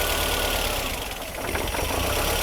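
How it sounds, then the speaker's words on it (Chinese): Engine idling near 1100 rpm after its distributor was rebuilt, running on an external fuel tank: a steady close rumble with a slight dip midway and no talk. "现在怠速在1100左右"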